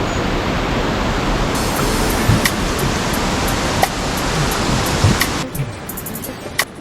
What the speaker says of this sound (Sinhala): අද වතුර ගොඩක් සැරයි.